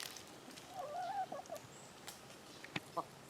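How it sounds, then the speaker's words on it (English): Chickens enjoying a dust bath give a few soft, faint clucks and murmurs close by, with light rustling and a couple of brief sharper notes toward the end. "Chickens are all enjoying themselves."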